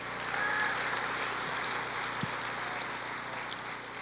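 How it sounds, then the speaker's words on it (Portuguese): Steady applause from a church congregation fills the space, a dense, even patter of clapping that holds for several seconds without voices. "Pode aplaudir o Senhor"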